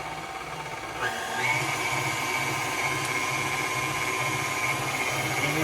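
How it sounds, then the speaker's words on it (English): An electric mixer with a whisk attachment beats sweet potato honeybun cake batter, a steady whirring drone that steps up in intensity after the first second and holds evenly throughout. "Let me put my whisk back on. And let's mix."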